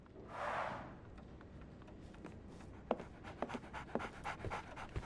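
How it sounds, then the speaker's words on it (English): A dog pants in the Sherlock Holmes: The Awakened video game, first as a soft breathy burst, then as a run of quick faint puffs and small shuffling sounds over a low room hum. "So, Barnes has a dog now"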